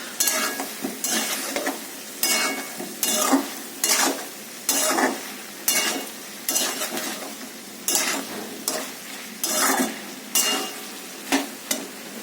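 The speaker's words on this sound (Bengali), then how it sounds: "ভালো করে মশলাটা কষাবো।" Spice paste for prawns fries in a pan while a utensil stirs it in repeated scraping strokes over a steady sizzle, close and fairly loud, with no talk.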